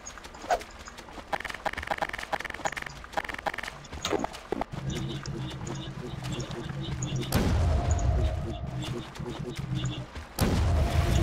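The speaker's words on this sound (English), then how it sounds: "Oh, I saw that explosion." Game explosions and gunfire in a Garry's Mod multiplayer match, with sharp broadband blasts near the middle and two loud bursts late on, over constant game noise and clopping footstep-like effects.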